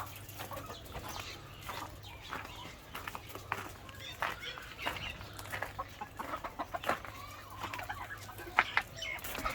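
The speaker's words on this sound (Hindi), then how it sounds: "तो ये हमसायों की मुर्गियाँ आ गई हैं।" Chickens cluck and squawk in short, scattered bursts nearby, with a person talking intermittently and a low steady hum underneath.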